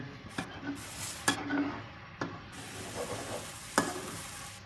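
Egg and tomato stirred in a frying pan: a low sizzle runs under a few sharp spatula clicks and scrapes against the pan, spaced irregularly and heard up close.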